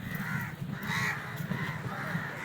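A crow on Chavakkad beach gives repeated harsh caws in a steady rhythm, close and fairly loud over a low hum of surf and wind.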